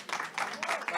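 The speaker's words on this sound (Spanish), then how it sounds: "Le damos la bienvenida con un fuerte aplauso" Audience at a talk on sleep disorders and work claps to welcome a speaker, a brief burst of steady applause with murmuring mixed in.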